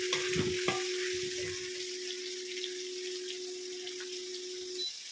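Onions sautéing in a pan for a chicken gravy, a steady close sizzle with a few sharp stirring clatters near the start, running alone without talk.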